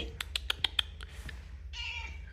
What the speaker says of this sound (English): She's a beautiful cat.